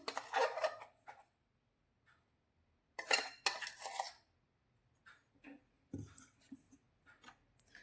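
Spoon scraping and clinking against a nonstick or steel kadai while spreading powdered sugar, in a few short bursts of metallic scraping separated by quiet gaps, close and fairly soft.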